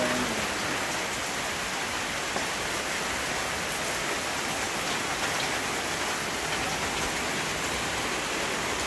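Steady rain falls throughout, a dense continuous hiss of drops on surfaces outdoors on a farm where cattle are kept, even and unbroken with no voices.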